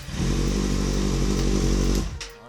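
A Kawasaki Z800e motorcycle engine cranks and runs with a loud, steady low rumble for about two seconds before cutting off, heard close up with nothing else around it.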